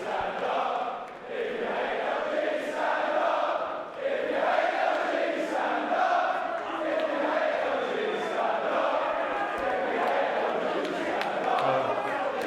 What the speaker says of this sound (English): I believe it was a "if you hit LG, stand up" chant.